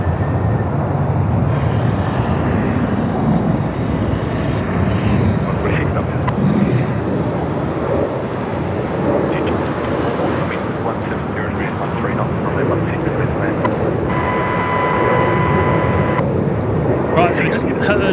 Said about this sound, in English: the velocity 73 just lifting off.